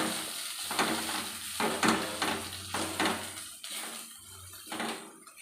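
Two eggs are stirred into wilted moringa leaves frying in a pan. A spatula scrapes the pan in about six rhythmic strokes over a soft sizzle, close and fairly loud, with no talking.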